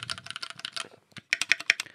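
Typing on a heavy custom mechanical keyboard, fresh out of the box, producing close, crisp bursts of rapid keystrokes with a brief pause midway, followed by a few louder, sharper clacks.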